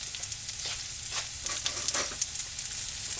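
Garlic sizzles in a frying pan with onion, a steady crackling hiss with brief bursts of louder spitting and some faint stirring, heard alone without talk.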